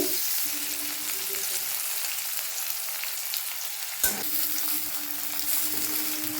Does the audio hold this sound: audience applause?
no